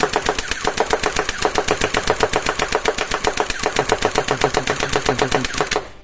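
A cheap full-size toy Scar H replica fires in a rapid, evenly spaced burst of loud sharp cracks, sustained for about six seconds close to the listener before stopping.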